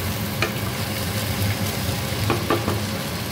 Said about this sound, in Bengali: সাইড করে আমি মাছের মাথাটা ভেজে নিই